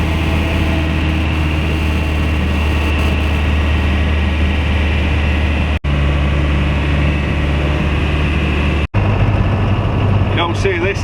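Diesel vehicle engine pulling uphill in top gear, a constant low, loud drone close by with someone talking over it throughout.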